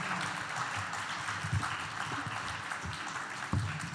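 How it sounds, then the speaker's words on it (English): Audience at a 2015 city election candidate forum in Hapeville gives a short round of applause, steady moderate clapping from a room of people with a few sharper claps standing out, fairly distant and alone. "Can everyone please give a hand clap?"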